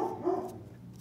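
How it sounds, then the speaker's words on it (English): A single short dog bark in the background, a brief muffled yelp near the start of a quiet moment. "Sorry for the dog in the background."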